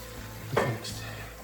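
A spoon stirs sloppy joe mixture with Worcestershire sauce in a pan on the stove, one brief scraping swirl over a soft sizzle, close and moderately loud.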